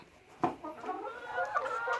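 Domestic hens on a small backyard flock, clucking softly and intermittently in a few short, close murmuring calls, with no one talking.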